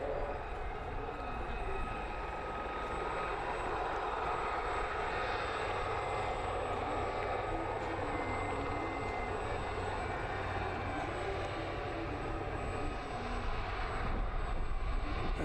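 A display aircraft makes its final pass at an outdoor air show, a broad continuous engine roar that stays strong and steady throughout, with the open-air rumble of the event around it.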